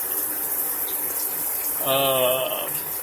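Water sprays from a chrome Euphoria 2 hand shower head with the tap fully on, a steady hiss of fine streams over faint room noise that swells briefly louder toward the end.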